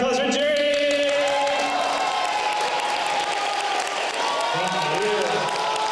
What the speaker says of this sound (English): Give a round of applause for Jury.